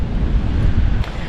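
Strong wind buffets the microphone on a seashore at night during sea fishing in Kent, a steady loud low rumble with gusts and surf-like roar throughout, no voices.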